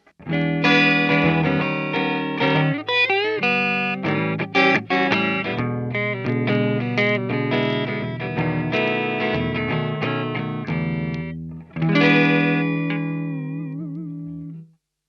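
An electric guitar is played through a Peavey Transtube Supreme amp head on its clean channel, giving a dense run of picked notes and chords with a brief gap, then a final ringing chord that slowly fades.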